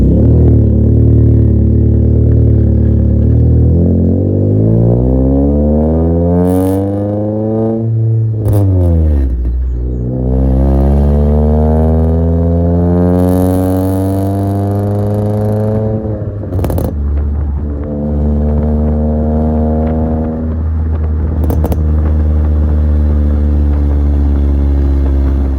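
Five-door family saloon with a modified exhaust and K&N foam panel filter, revving repeatedly at close range, the engine note sweeping up and falling back in several long loud pulls with short pauses between.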